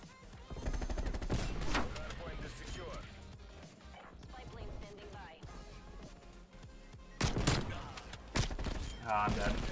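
Gunfire from a sniper rifle in Call of Duty Black Ops Cold War hardpoint multiplayer, a few sharp loud shots bursting out amid dense game audio, with music and a player talking over it.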